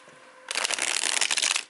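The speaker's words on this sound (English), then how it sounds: "this is a beautiful deck and it's a dream to shuffle with" A tarot card deck is riffle-shuffled close to the microphone. After a short quiet start there is a dense, crisp burst of rapid card flutters lasting just over a second.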